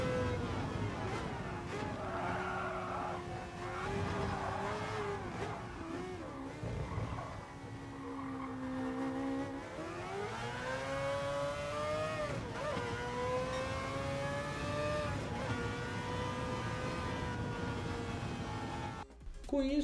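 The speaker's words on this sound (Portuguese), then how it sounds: "a 240, 250 ele faz a curva tranquilamente, você colocando o pé nele e o carro não saindo de traseira" A Mazda 787B race car driving at speed through corners, its engine note rising and falling in loud sweeping pitch changes, heard from close by for a long stretch with no talk.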